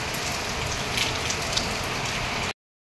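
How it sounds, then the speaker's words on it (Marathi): Torrential Mumbai rain hammers down in a constant wash of close, loud patter, a few heavier drops standing out before the sound cuts off abruptly. "पाऊस एकदम भयानक आहे बघा"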